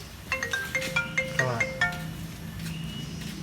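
A phone rings indoors with a melodic electronic ringtone, a quick run of bright tones repeating for about two seconds before fading, near and clear with no talk.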